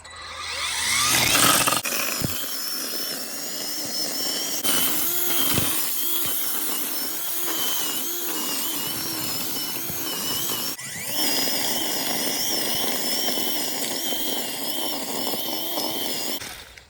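A Ryobi 40V 15-inch cordless string trimmer runs continuously at close range, producing a loud, steady buzzing whine with slight rises and dips in pitch as the line cuts.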